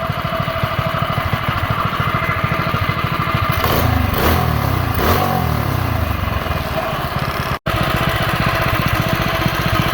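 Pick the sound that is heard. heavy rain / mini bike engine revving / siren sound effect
mini bike engine revving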